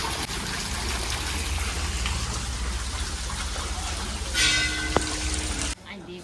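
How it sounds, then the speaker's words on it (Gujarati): Water falls and trickles in a stream near a hillside temple, a continuous rushing splash close by with a brief bell-like ring near the end before it cuts quieter. "પાણી પડે ને."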